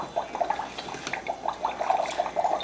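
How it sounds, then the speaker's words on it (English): Magic Mixies toy cauldron contents fizzing and bubbling in water, a soft, close crackle of small pops and gurgles that keeps going for a few seconds with no voices. "If you look on the inside, this stuff is like fizzing up."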